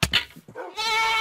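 A goat in the Minecraft video game bleats: a short bleat at the start, then a longer, loud, wavering bleat held to the end of the clip, with no talk over it.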